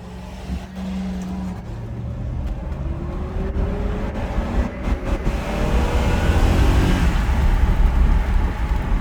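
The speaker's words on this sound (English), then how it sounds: "So the car does not mind being driven." A 1986 Mercedes W126 420 SEL drives and accelerates, its engine rising in pitch and loudness through the gears, heard from inside the car with road rumble underneath.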